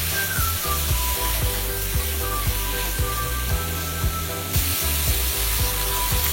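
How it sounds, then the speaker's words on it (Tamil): Brinjal and drumstick pieces sautéing in a pan give a steady loud sizzle, with repeated soft scraping and knocking of a spoon stirring at a regular pace throughout. "இப்போ இதுல கத்திரிக்காய் அப்புறம் முருங்கைக்காய் சேர்த்துட்டு அதையும் ஒரு 2 நிமிஷத்துக்கு வதக்கிக்கலாம்."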